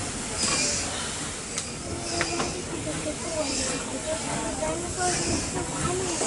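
Disneyland Railroad steam train rolling toward Toontown Depot, with a steady close hiss and rumble throughout and faint voices mixed into the noise.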